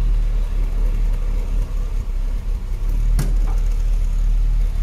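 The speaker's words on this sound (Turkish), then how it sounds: "Araba şimdi benzinde çalışıyor." A 1992 Tofaş Şahin with 68,000 km idles on petrol, a steady low engine rumble, close and fairly loud, with a brief sharp click partway through and no talking.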